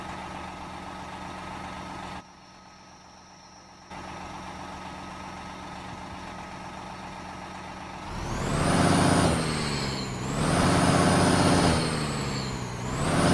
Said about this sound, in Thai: เสียงเร่งเครื่องครับ